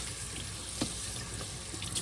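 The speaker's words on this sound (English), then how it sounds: "Rinse the blade off" A honed WoolfBlade straight razor rinsed under a running tap, the water pouring in a steady, close, continuous rush with a faint knock partway through.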